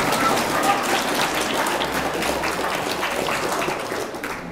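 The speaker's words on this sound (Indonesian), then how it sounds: "Tepuk tangan lagi." Audience applause at a Hari Santri commemoration gathering in Indonesia, a steady dense wash of clapping that holds for several seconds and thins slightly toward the end.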